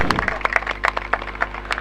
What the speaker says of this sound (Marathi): कोपरी साठी जोरदार टाळ्या